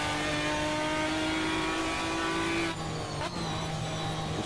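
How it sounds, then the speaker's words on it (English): Race car in the Automobilista 2 sim racing game, engine droning loudly and steadily with a held pitch, then dropping sharply as it shifts and brakes, tyres briefly scrubbing, no talk. "The car sounds are good."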